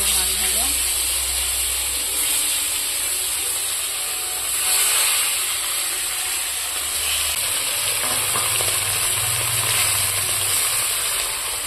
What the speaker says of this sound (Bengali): আর আজ করবো যখন মাছ ভাজা হচ্ছে, এই মাছটা ভাজা হয়ে গেছে দেখো।